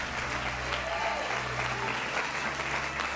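Church congregation applauding, a dense and steady wash of many hands clapping throughout, moderately loud with a low room rumble underneath.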